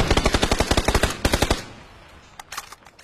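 Video game automatic weapon fire: a loud, fast, evenly spaced burst of shots that stops abruptly and leaves a fading echo, followed by a few more distant shots.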